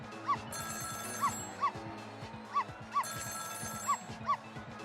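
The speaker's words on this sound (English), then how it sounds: "It was the sound of a telephone ringing, coming from the apartment next door." A telephone rings in the video game Ghost Trick: Phantom Detective, heard through the wall from a neighbouring apartment in repeated short electronic trills over background game music, while a barking, yipping dog sound joins in.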